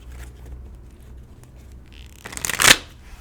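Tarot cards are shuffled near the microphone, a quiet rustle building into one loud riffling burst that snaps to a stop, after a soft near-silent stretch.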